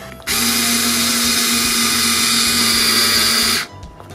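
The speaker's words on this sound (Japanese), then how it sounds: "ちょっとね、電動ドリルでやります。" Electric power drill whining steadily at high speed for about three seconds while driving a small screw on a cheap junk device being taken apart, starting and stopping abruptly, loud and close.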